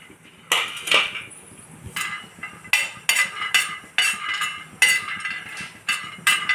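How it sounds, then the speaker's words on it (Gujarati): Roasted peanuts pounded in a kitchen for sabudana khichdi, giving a run of repeated hard knocks with clinking, uneven in rhythm, fairly close and with no talk. "હવે સિંગના દાણા ખંડાઈ ગયા છે"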